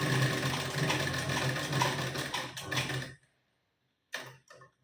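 Domestic sewing machine running steadily as it stitches tucks into a blouse, a continuous close mechanical whir for about three seconds that stops abruptly, followed by silence and two brief clicks of the machine being handled.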